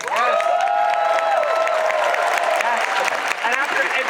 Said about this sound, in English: if we clap loud enough for him, Iwasaki-san, he will hear